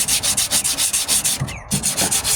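A 1998 Ford Ranger tailgate is sanded with 40-grit paper during rust repair, a rhythmic back-and-forth metal scrubbing in quick, even strokes with a brief pause, close and loud.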